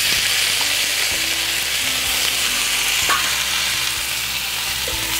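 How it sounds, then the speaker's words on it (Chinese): Pork trotters sizzle and fry steadily in a pan with sautéed ginger, a loud continuous crackling hiss with occasional small pops, no talking. "稍微爆香了以后，我们就可以把我们的猪脚放进来。"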